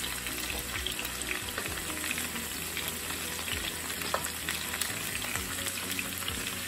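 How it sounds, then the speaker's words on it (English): Steak, potato and bacon sizzle and crackle in a frying pan, a dense continuous hiss with scattered pops, fairly quiet and steady without any talking. "Everything's cooking and sizzling just right. Hear that?"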